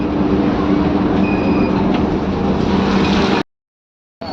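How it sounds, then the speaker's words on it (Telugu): Inside a moving Telangana RTC metro city bus: steady low rumble and hum, loud and continuous, with faint squeaks on top, then an abrupt cut to silence near the end. "ఇది తెలంగాణ ఆర్టీసీ బస్సు మెట్రో"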